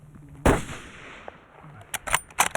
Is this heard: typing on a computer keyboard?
no